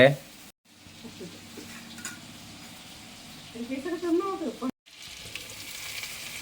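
Boiled pasta fries in a hot pan, giving a continuous close sizzle with stirring scrapes, while a voice murmurs briefly beneath it.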